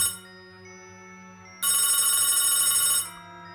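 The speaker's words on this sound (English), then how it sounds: "Even after I picked the call, it is still ringing." A telephone rings with a steady electronic tone that suddenly jumps much louder for over a second, then drops back to a quieter continuous ring.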